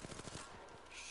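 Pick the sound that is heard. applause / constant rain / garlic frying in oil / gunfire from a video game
gunfire from a video game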